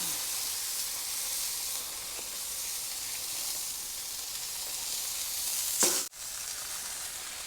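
Ribeye burgers sizzle steadily on a hot cooking surface, a loud continuous frying hiss with a brief sharper spurt near the end.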